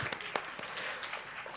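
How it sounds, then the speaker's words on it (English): Short burst of audience applause at an evaluation summit, a dense wash of clapping with a few sharper claps standing out, fairly quiet and distant throughout. "Please, applause."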